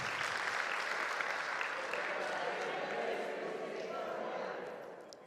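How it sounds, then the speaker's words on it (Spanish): A church congregation applauds in a sustained, dense burst of clapping that holds steady for several seconds and then begins to fade near the end. "Un aplauso."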